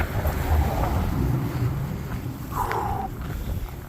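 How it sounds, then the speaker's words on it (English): Strong wind buffeting the microphone with a loud, rushing roar, continuous and gusty throughout. "So, it is cold and windy"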